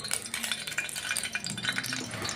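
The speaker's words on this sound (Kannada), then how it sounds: "ಆದಮೇಲೆ ಎಣ್ಣೆ ಬಿಸಾಕ್ತಿದೆ." Oil crackles and spatters in a pan while fenugreek chicken gravy cooks, with busy, irregular sizzling and scraping stir noises close up and no talking.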